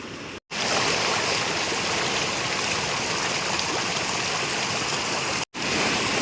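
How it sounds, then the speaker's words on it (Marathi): Floodwater rushes through a monsoon-swollen river in rural Konkan, a loud, steady broadband roar of churning water close by, continuous apart from two brief cut-outs. "पूर बघा कसा आहे"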